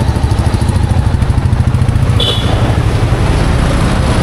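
A Royal Enfield Classic 350 motorcycle in gunmetal grey is ridden along a road, its engine giving a loud, steady thumping drone with wind noise throughout and no voices.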